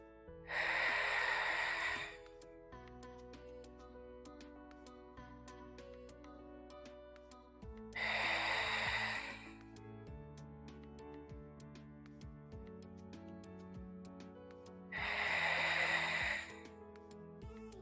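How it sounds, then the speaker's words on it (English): Deep breaths taken during a Pilates ball exercise, three loud breathy bursts spaced evenly at long intervals over soft background music. "Take 5 deep breaths in and exhale fully."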